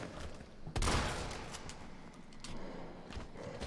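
Gunfire in a video game: a loud blast followed by a scatter of quicker, fainter shots and clatter.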